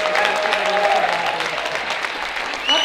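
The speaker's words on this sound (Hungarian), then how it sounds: "Fogadjuk őket nagy-nagy tapsal, és ezért, mivel ajkaiak, még nagyobbal." A crowd gives loud, steady applause to welcome a band onstage at a rock concert; the dense clapping holds evenly throughout, with faint voices mixed in.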